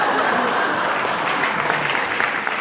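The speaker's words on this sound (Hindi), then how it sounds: "आपने मेरे स्वागत में जो जोरदार ताली बजाई है" Audience applauding a poet on stage at a Hindi comedy poetry event, with dense, steady clapping from a large crowd throughout.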